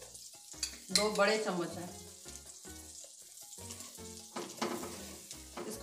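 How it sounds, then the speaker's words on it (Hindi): Flour sizzling in melted butter in a pan for white sauce spaghetti, a steady frying hiss and crackle heard under a voice talking over most of it. "मक्खन पिघल गया, 2 चम्मच इसमें मैदा डाल रही हूँ"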